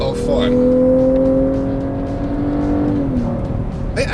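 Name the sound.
2014 Cadillac CTS Vsport engine revving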